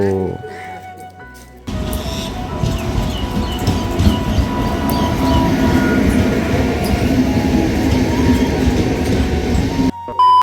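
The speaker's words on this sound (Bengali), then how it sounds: "এদিকে আমাদের ট্রেন ঢুকে গেছে এদিকে হর্ন দিচ্ছে" A train pulls into a foggy station with a loud, steady rumble of wheels and carriages rising suddenly and rolling on for several seconds before cutting off.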